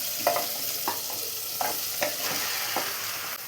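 Marinated chicken hits frying tomatoes and is stirred, a steady sizzle broken by a handful of spaced scraping stirs against the pan, with no talking.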